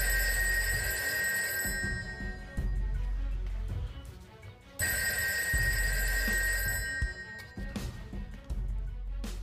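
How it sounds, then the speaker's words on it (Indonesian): An old-style telephone bell rings in two long bursts separated by a pause, loud and close, with faint background noise between rings. "tiba-tiba ia mendengar dering telepon"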